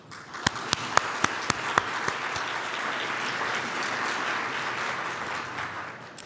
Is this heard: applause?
yes